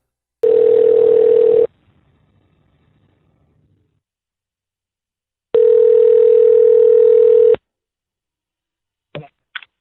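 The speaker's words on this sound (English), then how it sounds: "let me play that phone call for you right here" A telephone dial tone sounds as a call begins: a loud steady hum lasting about a second, a pause, then a second longer burst, followed by brief clicks near the end.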